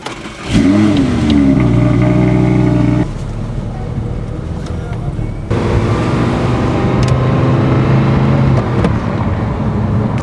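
An Audi R8 GT converted to a manual gearbox starts up, its engine catching and revving loudly, then settling into a steady idle with further throttle swells. Close and strong throughout, with a voice speaking over it.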